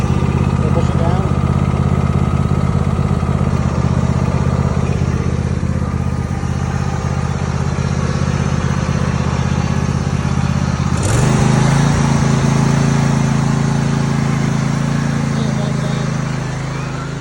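A small tractor with hydrostatic drive runs steadily, its engine droning loud and close throughout, with a brief surge in pitch partway through.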